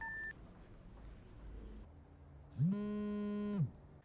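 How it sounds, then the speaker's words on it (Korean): Cell phone keypad dialing tones from a police captain's phone in an office: a short beep, then one longer, steady electronic tone lasting about a second, clear and close over a quiet room hum. "설리반은 퀴넌 반장의 사무실에서 휴대폰을 발견하고 전화를 걸어보는데"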